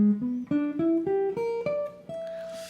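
A guitar plays a dominant 7 sharp 9 flat 5 arpeggio, eight clean plucked notes climbing one at a time in an even rhythm, each ringing briefly into the next, close and clear.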